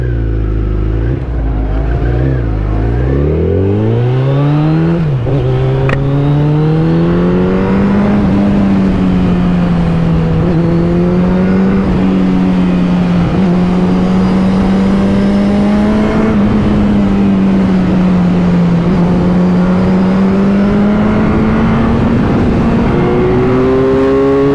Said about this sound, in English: I'm gonna try out the beautiful mighty Hayabusa for a while.